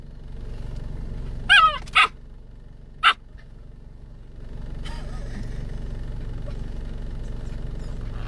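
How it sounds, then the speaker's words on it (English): A dog gives three sharp, loud barks close by, two in quick succession and then a third about a second later. A low steady background hum runs throughout. "This is a bipolar dog we get here."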